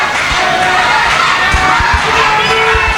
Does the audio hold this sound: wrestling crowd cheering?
yes